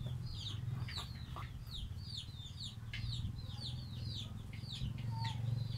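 Chickens cluck repeatedly in short, sharp calls over a steady low background hum, moderately close on a farm where bananas are being harvested.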